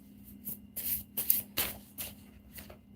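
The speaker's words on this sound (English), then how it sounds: "I like shuffling." Tarot cards being shuffled by hand in several crisp riffling bursts, close and fairly loud, with short pauses between them and a faint steady hum underneath.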